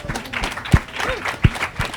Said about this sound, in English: How about a round of applause for both?